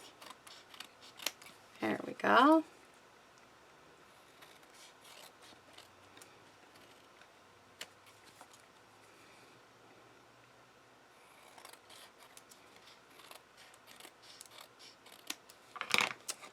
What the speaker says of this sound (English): we're just going to cut right around up close on this